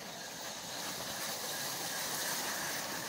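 A postwar Lionel 2-6-4 model steam locomotive runs steadily with a continuous hiss and whirring rail clatter, close and even throughout, with no talk.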